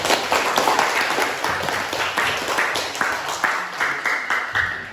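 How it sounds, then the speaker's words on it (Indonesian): Classroom applause for a student, with a small group clapping in loose, uneven bursts that stay fairly close and loud over several seconds. "tepuk tangan buat Afif."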